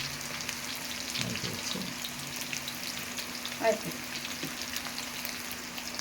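Apollo fish fries in hot oil, a steady close sizzling hiss with a few stirring taps and one brief louder knock, while some faint talk runs underneath.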